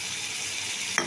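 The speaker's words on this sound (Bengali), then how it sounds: "এবার সর্ষেটা দিয়ে দিচ্ছি, সর্ষে দিয়েও ভালো করে আমি কষিয়ে নেব।" Mustard paste frying in mustard oil for a Bihari-style rohu fish curry, a steady soft sizzle that carries on alone, ending in a brief sharper clatter.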